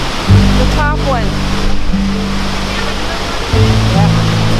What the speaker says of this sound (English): It's quite the waterfall.